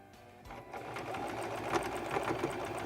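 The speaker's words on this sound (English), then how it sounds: "we will sew this all the way till we reach the end of our buttonhole" A Singer Promise 1408 sewing machine stitches a buttonhole, a close, steady mechanical whirring with rapid rhythmic needle ticks that starts after a brief pause.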